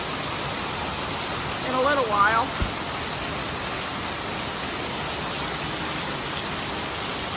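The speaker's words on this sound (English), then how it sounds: "As soon as this rain stops" Heavy rain coming down outdoors near a pavilion, a dense, even hiss filling the whole stretch, with a person speaking briefly under it.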